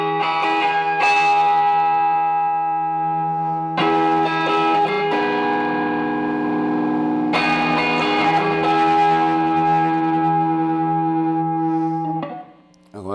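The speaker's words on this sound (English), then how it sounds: "output volume of the distortion channel out in dual channel mode here. And you can hear it come." Maekloeder Dual Channel 5000 distortion pedal in dual channel mode with the tone turned up, sustained distorted guitar chords ringing out in long held phrases, loud and alone, briefly re-struck several times before fading near the end.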